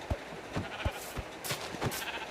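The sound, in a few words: sheep bleating in the video game Minecraft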